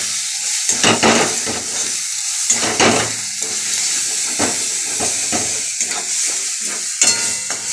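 Cauliflower fries loudly in a pan with spices while a utensil stirs and scrapes through it in repeated bursts over a steady hiss and sizzle.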